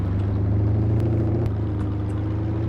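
A tractor in Farming Simulator 22 drives out to cultivate a field, its engine giving a steady, loud, low droning rumble that holds constant throughout.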